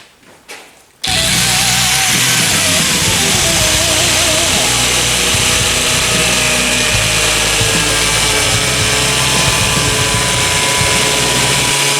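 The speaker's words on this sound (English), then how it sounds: "We're going to take the grinder, we're going to cut us a big bead groove in all the bad places." An angle grinder cuts a bead groove into the damaged fiberglass of a 1995 vert ramp, roaring loud and steady after a brief quiet start and running on without a break.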